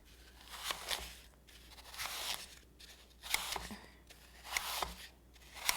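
Blade slicing through foam for a no-bake candy bouquet, coming as repeated rasping, scratchy strokes in a steady rhythm of about five cuts, close and moderately loud with no voices.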